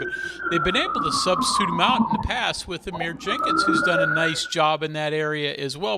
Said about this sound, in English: sorry about the sirens rolling through here